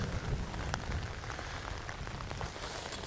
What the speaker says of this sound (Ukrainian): Дощ іде, а воно їде.